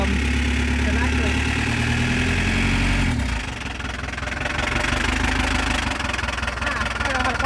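A car engine idles loudly and steadily with a low, rough rumble, briefly dipping around the midpoint before settling back into the same running drone; voices can be heard faintly over it.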